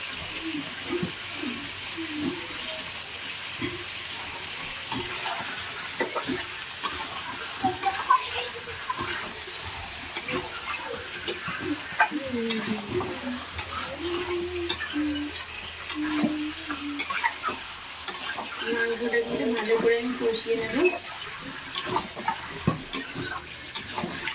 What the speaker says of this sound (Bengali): তো দেখো মাংসটা কিন্তু আমি ভালো করে কষিয়ে নিচ্ছি